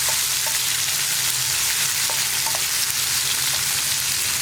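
Chopped tomatoes sautéing in hot oil in a pan for a no-coconut kadala curry, a continuous loud sizzle with a few light stirring clicks, no voices.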